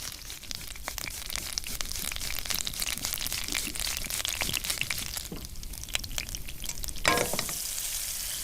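A fat clove of garlic frying in oil in which anchovies have dissolved, a steady close sizzle with intermittent scraping and stirring clicks throughout.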